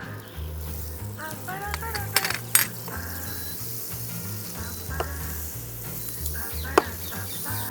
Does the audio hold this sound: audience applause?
no